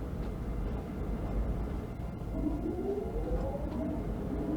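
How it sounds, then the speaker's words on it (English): An Amtrak ACS-64 electric locomotive runs at about 30 mph on the Boston to Providence route in Train Sim World 2, giving a steady low rumble with a faint rising whine partway through. "Hear the train making some nice sounds."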